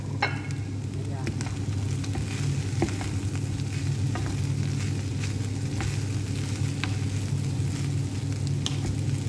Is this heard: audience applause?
no